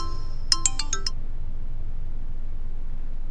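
A short run of five bright, high electronic beeps, like a phone ringtone, then quiet background hiss.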